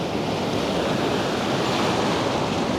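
Ocean surf surging onto a beach at a surf perch fishing spot, a steady loud wash of breaking water with wind noise, continuous and close, no talking.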